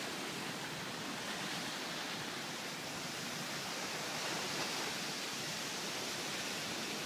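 Ocean waves washing onto a small private beach at a Cabo San Lucas resort, a steady broadband rush with no distinct breaks, moderately loud and unbroken throughout.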